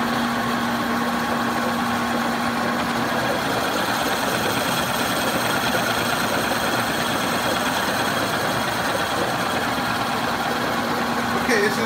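Lathe boring the cylinder of a live steam model engine: a steady, continuous machining drone with motor hum and a constant high cutting hiss, close and loud, unchanging throughout.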